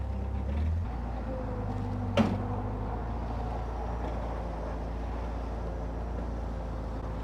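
A cheap, broken Toyota rock crawler drives along with a steady low engine rumble throughout, plus one brief sharp clank or knock partway through and no talking.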